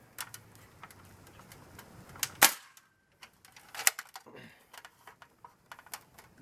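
A homemade crossbow fires a dart with one sharp snapping release, followed by scattered light clicks and ticks from handling the mechanism, all fairly close and quiet otherwise.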